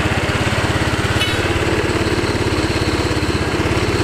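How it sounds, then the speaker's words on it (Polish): A small two-stroke enduro scooter engine, freshly got running after a repair, idles steadily and close by with a fast, even putter, a brief rise in pitch near the start, and no talking. "udało się odpalić skutera dla Tomka."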